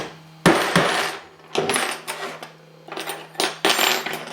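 Nails are hammered straight on a table made of a plywood sheet, giving sharp, loud metallic bangs in irregular bursts with ringing, resonant knocks between them.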